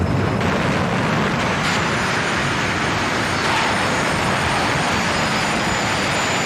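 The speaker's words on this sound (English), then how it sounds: "Both cars going through the pre-race fire show, warming up the engines, lighting up the load when it comes to fuel." Jet dragster engines roar during a pre-race fire show at a drag strip, a loud, constant turbine blast with a high whine running unbroken for over six seconds.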